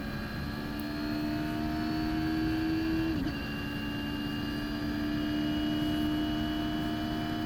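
A Radical race car engine drones steadily at high revs as the car accelerates on the Mallala track, a loud continuous whine that dips in pitch once midway, as if shifting gear, then holds on.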